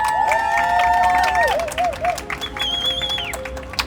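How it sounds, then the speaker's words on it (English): Audience applause at a banking industry networking panel, moderate clapping and crowd noise mixed with a swooping, warbling electronic or music-like tone, chatter underneath. "Round of applause for Mr."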